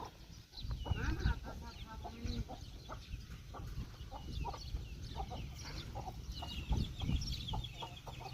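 Chickens cluck repeatedly around a farmyard in a Thai village home, with short overlapping calls close by and a steady outdoor murmur underneath.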